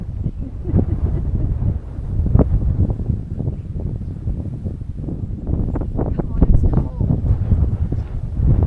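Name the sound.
wind blowing outdoors near Mary Kathleen mine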